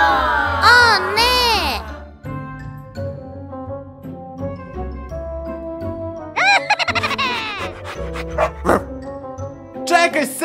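A cartoonish dog in a children's detective game barks in a few short yelps against playful background music, with childlike voices and chiming effects around it.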